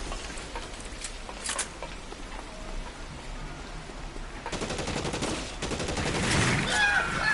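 Rapid, dense bursts of gunfire from the video game L.A. Noire start about halfway through and continue to the end. They sound like loud, crackling volleys over a steady hissy background, with no talking.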